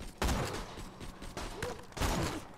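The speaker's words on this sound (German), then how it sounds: "Da rechts schießt was auf mich." Enemy gunfire in Borderlands 2, a few loud, close bursts of shots in quick clusters with brief gaps between them.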